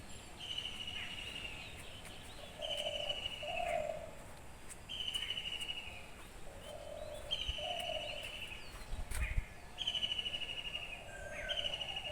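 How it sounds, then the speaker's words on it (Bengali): Various wild birds call on a wet spring morning after overnight rain, repeating clear whistled phrases at a steady rhythm, some near and some farther off, with lower warbling notes between them and no talk. "কত রকম পাখি ডাকে সকালবেলাটা"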